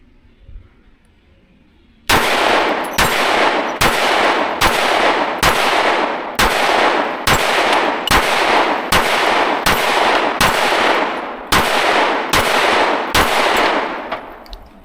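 A Daniel Defense H9 pistol fires Magtech and Remington ammunition at an outdoor range: after a quiet start, about sixteen sharp, loud, close shots ring out in a steady, evenly spaced rhythm, each with a short ringing tail.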